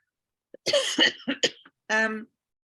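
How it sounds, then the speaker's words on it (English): A few sharp coughs close by, followed by a short voiced throat-clearing sound, then silence. "Excuse me, I'm going to cough."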